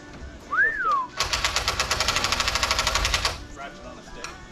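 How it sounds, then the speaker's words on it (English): A socket wrench ratchet on a stick clicks in a rapid, even burst of about two seconds, close and fairly loud, after a short whistle. "A ratchet on a stick."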